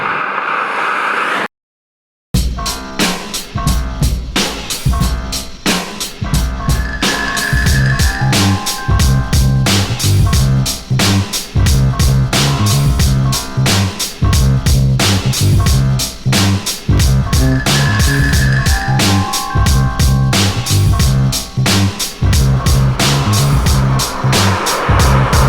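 A Ford Fiesta ST 200 is driven hard, its engine loud and close with rapid revving, gear changes and rising, falling tones over a steady rhythmic clatter, after a brief silent gap near the start.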